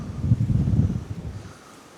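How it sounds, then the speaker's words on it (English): Wind buffets across a river bank, a low rumbling gust that is loud for about a second, then eases to a softer rush. "A bit windy today though."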